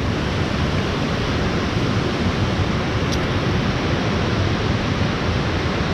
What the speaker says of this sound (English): This one's called Joaquina.